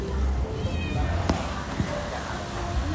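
A cat meows for fish, a couple of short cries rising over a busy indoor background where people talk and low rumbling persists.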